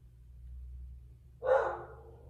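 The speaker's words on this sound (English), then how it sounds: "my dogs are barking" A single dog bark, fairly clear and not far off, over a low steady hum.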